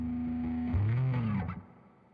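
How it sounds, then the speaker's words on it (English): Godin A6 Ultra hollow body guitar notes ringing through an effects unit, a sustained tone sliding into a lower bend with a trailing echo that fades out, played alone and up close. "you can actually hear kind of the echo coming from the hollow body"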